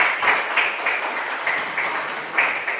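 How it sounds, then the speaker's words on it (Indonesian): An audience applauds with steady, moderately loud clapping that comes in small surges. A voice can be heard faintly underneath. "Kasih aplaus buat semua"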